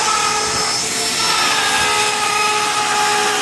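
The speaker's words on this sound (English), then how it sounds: "Scribing the outside of the tunnel right now, so we can go ahead and start digging in, cutting some meat off there" Power tool cutting into a solid fiberglass boat hull to open a bow thruster tunnel, a loud steady high-pitched whine with grinding texture, close and continuous.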